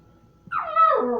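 A puppy gives a short whimpering howl that rises and then slides downward, close by, after a moment of near quiet.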